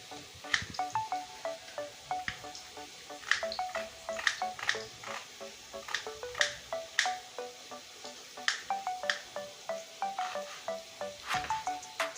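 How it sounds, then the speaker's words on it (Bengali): Potato pieces frying in hot oil for a Bengali chicken curry, crackling and spitting with sharp, irregular pops and snaps over a steady sizzle, close and fairly loud with no talking. "আলুগুলো আমি একদম লাল লাল করে ভেজে নিয়েছি"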